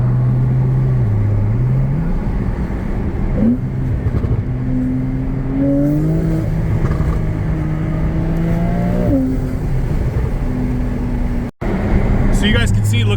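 Inside a Porsche 911 992 Turbo on the move, a steady engine drone rises in pitch through gear changes, then settles to a lower hum, with a brief dropout near the end.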